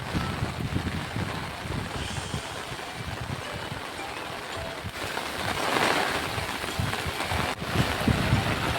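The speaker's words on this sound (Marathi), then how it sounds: "जोरदार पाऊस आला आहे, त्याच्यामुळे पुन्हा सगळे छत्रीमध्ये" Heavy rain falls outdoors beside a fast-flowing river during a fishing trip, with people sheltering under umbrellas. A dense, loud hiss carries on throughout, with wind buffeting the microphone and swelling toward the end.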